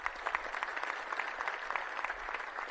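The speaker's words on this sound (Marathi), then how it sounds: "आपण सगळ्या जणांनी जोरदार अशा टाळ्या मारल्या पाहिजे" An audience claps together at a Hindu gathering in Neral, Raigad, producing dense, fairly close applause with a rapid uneven patter of hand claps that holds steady from start to end.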